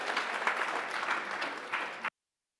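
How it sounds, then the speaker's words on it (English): Audience applause greets a presenting team called to the front at a summer program finale, a steady wash of clapping for about two seconds that cuts off abruptly. "Please give them a round of applause."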